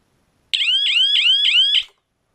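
A homemade prop bomb timer hitting zero sets off a piercing electronic alarm, five rapid identical chirping bursts in quick succession, loud and close, then cutting off abruptly.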